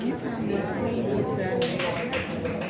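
A group applauds someone at a curriculum workshop in Banjarnegara. A voice is heard first, then a burst of clapping starts partway through and rises over continued talk.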